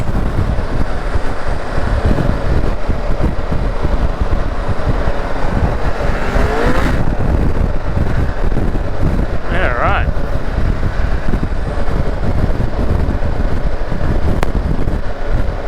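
A 2023 Triumph Tiger 1200 GT or BMW R1250 GS motorcycle cruising on a freeway gives a steady engine drone buried under heavy, constant wind rush, with a brief spoken remark from the rider partway through.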